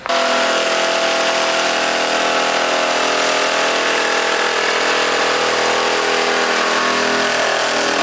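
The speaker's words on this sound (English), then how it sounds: "So I'm going to grab my little Sawzall thingy and trim that up really quick." A Sawzall reciprocating saw cuts through a Honda Integra's bumper to clear an intercooler, a loud, continuous buzzing rasp that runs without pause for the whole stretch, close by.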